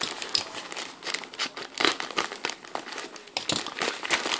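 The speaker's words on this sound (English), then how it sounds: "it just comes in a little plastic bag" A thin plastic bag holding Nike Roshe Run running shoes crinkles and rustles up close in irregular, loud bursts as it is handled.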